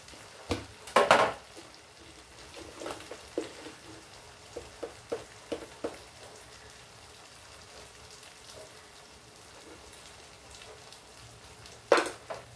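Eggplant and raw mango curry cooking in a pan: quiet, steady sizzling, broken by several sharp clinks and scrapes of a utensil against the pan, with a louder clatter near the start and another near the end.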